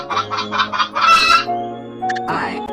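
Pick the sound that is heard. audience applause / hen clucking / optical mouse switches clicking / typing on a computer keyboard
hen clucking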